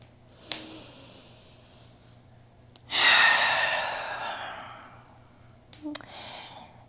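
Slow breathing during a trauma-informed yoga session: a long, airy exhale swells and fades over a couple of seconds, with fainter short breaths and small clicks around it.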